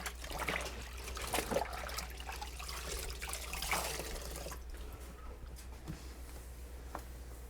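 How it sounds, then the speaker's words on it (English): Hands are washed under a running kitchen tap, a soft, steady trickle and splash of water that stays quiet and continuous, fading a little toward the end. "Wash my hands."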